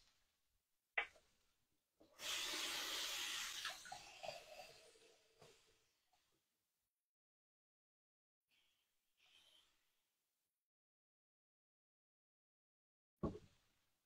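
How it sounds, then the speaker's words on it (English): Hands being washed at a kitchen sink: running tap water for a few seconds, then quieter splashes and rubbing before it stops, followed by long near-silence and a couple of soft knocks. "I'm going to wash my hands"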